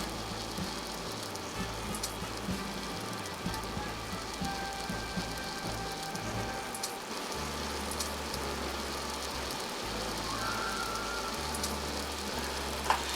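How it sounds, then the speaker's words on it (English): Brisket trimmings, already cooked in a crock pot, frying in leftover beef fat, giving a steady close crackling sizzle with dense popping that holds at an even level throughout. "Now I'm using that same fat to cook these bits of brisket."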